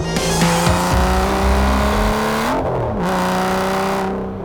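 An Aston Martin DBS with a naturally aspirated 6-litre engine and six-speed manual transmission roars loudly, its engine note climbing and shifting between gears, with a brief dip in pitch midway.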